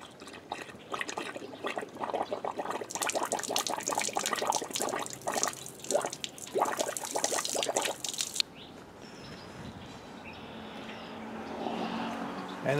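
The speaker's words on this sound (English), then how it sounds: "And it's all filled up with water." Water from a Jeep-mounted pressurized pump filling bottles, a loud steady gushing pour with splashing that runs for about eight seconds, then cuts off to a quieter trickle and faint background noise.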